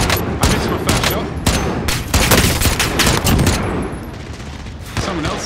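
Rapid bursts of gunfire in a Warzone solo match, loud and continuous with dense overlapping shots and game effects throughout, some single cracks standing out.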